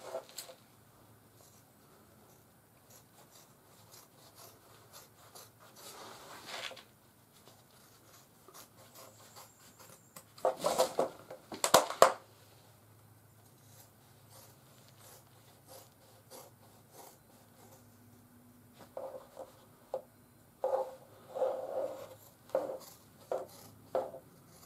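Leather being cut out for moccasins makes quiet scraping and rasping strokes at close range, with a few louder crisp cuts in the middle and a burst of short snips toward the end.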